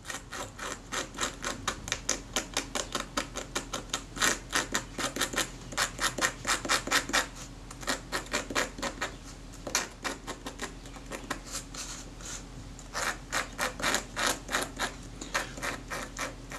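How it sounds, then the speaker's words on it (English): Dry scraping of caked-on grime from the leatherette covering of a Retina Reflex S camera, a steady run of quick, close scratchy strokes with short pauses, loud and without any talk. "First I'll see how much will scrape off dry."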